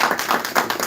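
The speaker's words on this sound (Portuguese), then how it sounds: "Salva de palmas para o Danubis aqui." An audience claps for a speaker at a talk, a dense burst of hand claps with a rapid, even rhythm, close and fairly loud.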